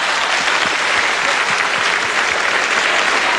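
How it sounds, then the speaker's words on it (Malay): A studio audience at a 1999 Hari Raya television special bursts into steady, dense applause, loud and continuous for the whole moment with no talk over it. "Tepukan pada Boboy"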